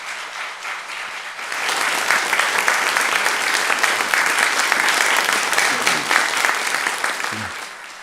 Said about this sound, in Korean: 우리 큰 박수로 한번 뜨겁게 격려하면 좋겠습니다.